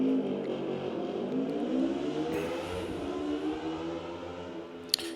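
A motorcycle passes by outside, its engine a steady droning rumble that swells slightly and fades, heard at a distance with no one speaking.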